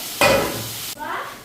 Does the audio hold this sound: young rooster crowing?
no